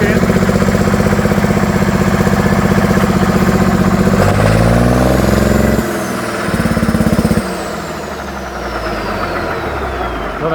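A 320 HP turbocharged Fordson tractor engine runs loud and close, its diesel chugging steadily before faltering and stumbling as revs drop, surging briefly, then dying away to a rough, uneven idle.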